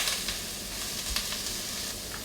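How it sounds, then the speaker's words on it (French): Water poured into a hot pot of green leaves for a detox green soup, giving a steady steaming sizzle and hiss with a few brief stirring clatters, close and continuous. "On va ajouter à présent de l'eau dans notre soupe avec les feuilles. Ça va dégager de la vapeur"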